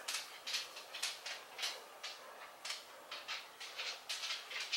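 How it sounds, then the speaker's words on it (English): Quiet, repeated crunching in short bursts as a cat chews dry dog kibble nearby, with a steady irregular rhythm and no talking. "if you hear any crunching in the background, that is my cat being real naughty and eating my dog's food"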